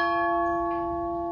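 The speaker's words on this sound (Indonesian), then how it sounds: "itu lonceng, bukan lonceng gereja, tapi lonceng bahwa ada kapal yang masuk" A bell rings once with a bright, sustained metallic tone that slowly fades, clear and fairly close, with no voices; a harbor bell in Mazatlán announcing an incoming ship.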